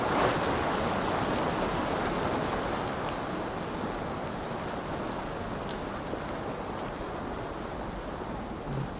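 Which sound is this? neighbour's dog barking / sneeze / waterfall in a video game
waterfall in a video game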